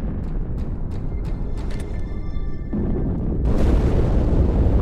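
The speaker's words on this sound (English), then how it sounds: "That explosion came from inside the Athens." In Halo 2 Anniversary on Cairo Station, an explosion erupts inside the ship Athens: a few sharp distant pops and crackles give way to a deep, building rumbling boom that grows louder and fills the space.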